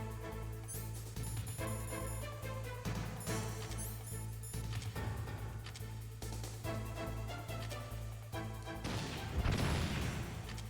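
Glass smashes in the video game Metal Gear Solid: The Twin Snakes, with sharp crashing bursts over a loud, continuous game soundtrack and ambience.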